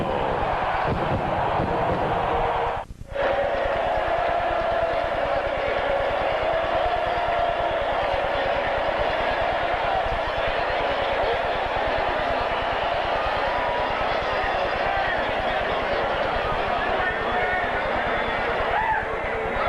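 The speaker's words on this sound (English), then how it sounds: "The crowd here at Busch Stadium in St. Louis chanting one last time, Jeffrey, Jeffrey" A big baseball crowd at Busch Stadium in St. Louis during Game 7 of the 1987 NLCS roars and chants steadily throughout, a dense, unbroken wash of massed voices under a commentator's talk.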